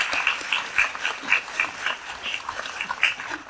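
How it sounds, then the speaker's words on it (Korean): A congregation at a Korean church thanksgiving service marking a new general secretary's inauguration claps warmly but softly, a scattered, moderately paced applause heard from a distance in a reverberant hall. "오늘 예배 순서 맡아주신 우리 김상근 목사님을 비롯해 모든 예배 순서자에게 뜨거운 박수 부탁드리겠습니다."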